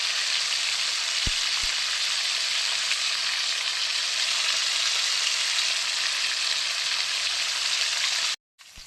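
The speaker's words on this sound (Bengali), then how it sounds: "পমফ্রেট মাছ ভাজতে দিয়ে দিয়েছি।" Pomfret fish sizzles steadily in hot oil in a pan, a constant bright frying hiss with a couple of faint pops, cutting off abruptly just before the end.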